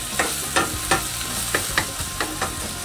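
Onions and tomato paste frying in a pan and stirred now and then, a steady close sizzle broken by about seven short scraping strokes of the spoon, with no one talking.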